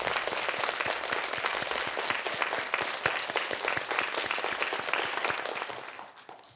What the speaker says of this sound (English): Please applaud Professor Suzuki